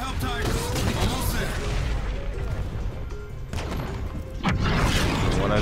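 Gunfire and explosions in the video game Call of Duty Infinite Warfare, a steady din of shots and booms forming a dense battle backdrop, with louder blasts near the end.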